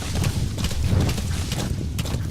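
A horse's hooves clip-clop at a trot across the ground in Metal Gear Solid V: The Phantom Pain, set in Afghanistan, a quick rhythmic patter of muffled thuds at moderate volume.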